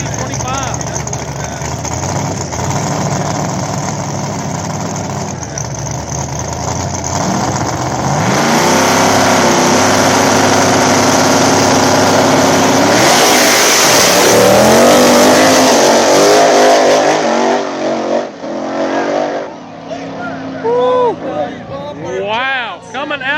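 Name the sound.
small tire drag race cars launching and racing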